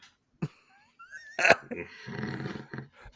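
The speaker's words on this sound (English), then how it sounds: "A dog just started to fight another dog." Two dogs scuffle with growls, snarls and sharp yelps in a loud, brief burst. A voice is heard nearby.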